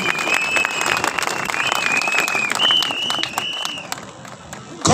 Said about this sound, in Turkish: O örgütüne buradan çok güçlü bir alkış istiyorum.